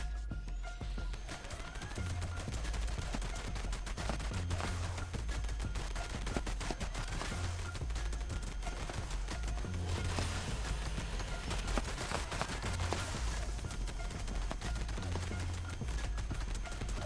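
Sustained automatic gunfire from a Gatling plasma, Pepper Shaker or light machine gun in Fallout 76 rattles on almost without pause while targeting a snake, a somewhat distant, rapid stream of shots with occasional heavier thumps.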